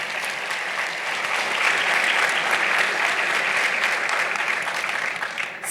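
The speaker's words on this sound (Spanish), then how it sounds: "pido un aplauso para ella." Sustained applause from a seated audience at a panel on gender perspective in judicial decisions, welcoming the first president of a national gender commission; a dense, steady patter of many hands clapping at even loudness for several seconds.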